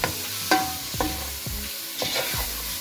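Tomatoes hit a hot pot of turmeric-spiced base for mutton curry, giving a close, steady sizzle broken by several quick spoon scrapes and soft thumps.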